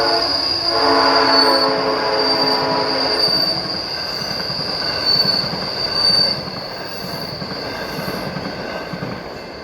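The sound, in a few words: train passing with squealing wheels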